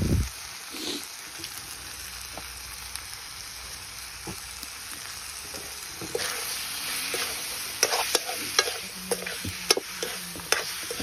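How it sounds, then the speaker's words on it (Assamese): Pork with meat masala and coriander powder being stirred and fried in a pan, a steady soft sizzle with scraping stir strokes that grow busier and louder in the second half, with no talk. "মাংসটোত মছলাখিনি সোমাই যাব পৰাকৈ ধুনীয়াকৈ এতিয়া হিলাই দিছোঁ"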